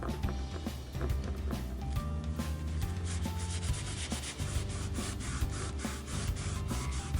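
Close, steady rubbing of Minwax scratch cover into a laminate floor, a continuous scrubbing hiss with rhythmic back-and-forth strokes and no voices.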